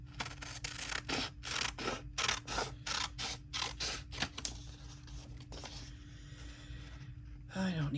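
Scissors cutting a junk journal cover, a run of repeated crisp snips and paper scratches close up, steady then thinning out, ending with a brief rustle.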